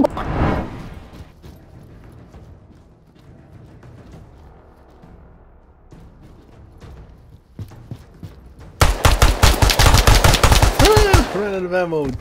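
Rapid bursts of gunfire from a tactical shooter video game erupt loud and dense near the end, following a quieter stretch of low rumble and scattered sharp shots.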